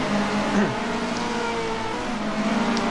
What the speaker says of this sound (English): Owen Potter led off the charge into Old Hall Corner for the first time